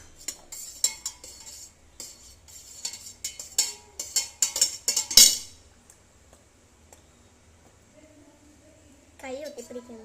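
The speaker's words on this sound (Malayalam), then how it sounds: "ഇളക്കിക്കൊണ്ടിരിക്കണം." A spoon stirs lemon juice syrup in a vessel with quick repeated clinks and scrapes for about five seconds, then quiet, with a voice speaking near the end.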